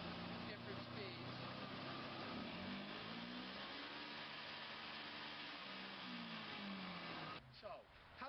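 A powerful Toyota engine on a 1,000-pound truck-mounted carpet cleaning machine runs close and loud without pause, its pitch climbing and dropping as it shifts between speeds.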